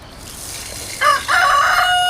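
A rooster crows loudly and close at night in a Philippine yard, one long drawn-out cock-a-doodle-doo rising out of steady background noise.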